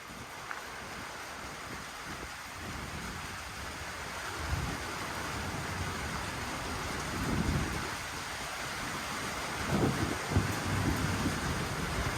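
Steady rain pours during a Texas thunderstorm, a constant hiss with wind buffeting the microphone and a few low rumbles of distant thunder rising out of the wash, with no talking.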